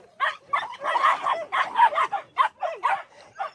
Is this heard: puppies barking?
yes